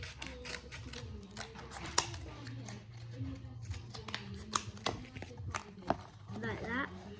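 Scissors snip through a cardboard board being trimmed to size for a miniature kitchen side, a series of quick crisp cuts close by, irregularly spaced, while a voice talks throughout.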